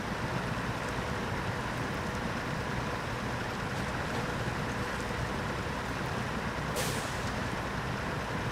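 A heavy truck in the video game Snowrunner drives into water, giving a steady, loud rush of churning noise with a brief hiss near the end and no voices.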